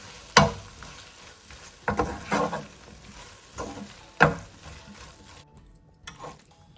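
Roughly chopped fresh coriander leaves, about 50 grams, being stirred and mixed in a pan, giving a few separate scraping, rustling strokes with a faint sizzle between them, close by and fairly quiet, with no talking.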